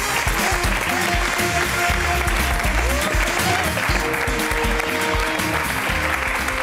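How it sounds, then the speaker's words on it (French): A studio audience applauds a presenter's entrance on a culture segment, sustained loud clapping with music and some crowd noise mixed in throughout. "Je vous demande d'applaudir Cécile Delarue."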